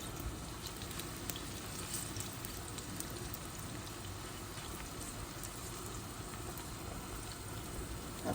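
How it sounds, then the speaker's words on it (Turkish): Eggplant fries lightly in a pan with a faint, even sizzle and soft crackling that holds steady throughout, with no talking. "bunlar biraz böyle karıştırarak çok hafif kızartacağım"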